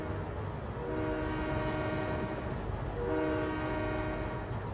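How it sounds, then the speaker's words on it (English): A video game train in Trainz, a Japanese commuter service, rumbles steadily nearby while its horn sounds in two long blasts, the second starting partway through. "I assume that's the train we've got to take."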